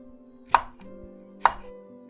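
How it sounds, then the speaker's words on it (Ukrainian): A knife slices a carrot into small rounds on a cutting board, two sharp, close chopping knocks about a second apart over a faint background hum. "Морку нарізаємо невеликими кружальцями."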